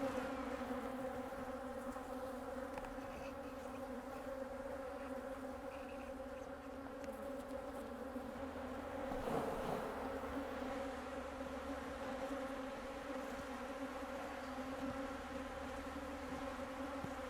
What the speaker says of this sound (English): Those bees, they're nurse bees, so they will take care of the brood.